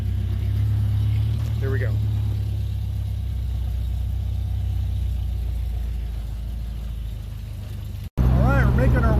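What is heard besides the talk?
old car engine sputtering while driving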